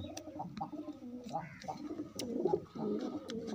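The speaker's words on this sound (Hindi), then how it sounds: "देखिए ये साढ़े हमारे कबूतर है ये सब दाना के लिए इंतज़ार में है" Soft cooing of pigeons mixed with wing flutters and small scuffling sounds, close by, with a quiet voice murmuring in the background.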